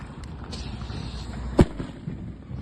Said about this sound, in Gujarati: અત્યારે અમે લોકો ફોડ્યો એક હજી આતાશબાજી આડી ફોડે છે